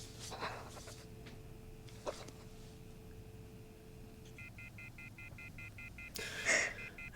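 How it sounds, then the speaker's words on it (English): A rapid string of phone keypad tones beeps out evenly in the 1992 film Candyman after a quiet stretch with a faint low hum, followed by a brief rustle. "The sound of the phone is very suspenseful."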